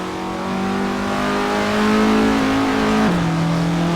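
A classic Formula Ford race car engine in Assetto Corsa drones steadily at moderate revs, rising in pitch and then dropping with a gear change near the end, close and continuous with no talking.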